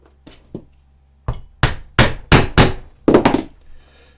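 A mallet strikes leather pricking chisels while punching stitch holes in a leather coin wallet, giving about eight sharp, close wooden knocks, two soft taps first and then a run of louder, evenly spaced blows.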